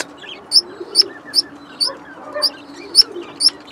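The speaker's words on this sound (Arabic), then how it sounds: "ادي العصافير" Small birds chirping outdoors in an open space, a series of bright, sharp tweets repeating roughly every half second, fairly close and clear over a soft background hum.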